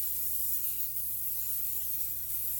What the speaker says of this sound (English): Spray the pan and spray the individual